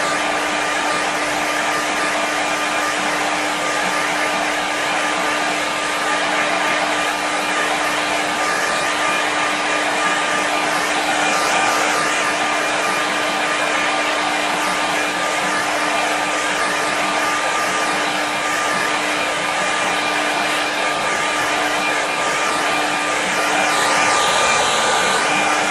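A hair dryer blows steadily and loudly at close range, drying wet paint on a watercolour painting, its even whooshing airflow and motor hum running unbroken and alone for the whole stretch.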